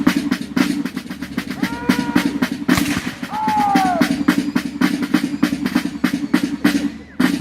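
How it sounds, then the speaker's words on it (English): Troops firing rifles at a Canada Day 150th celebration, a long series of sharp cracks and pops in an irregular rhythm, heard at a distance over crowd murmur and low background noise. "The troops stop firing and reload their rifles."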